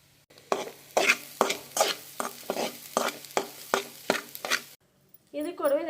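A spatula stirs masala into egg noodles frying in a pan, with about ten steady, rhythmic scraping strokes over a soft sizzle, close and clear, ending in a brief pause and a clatter.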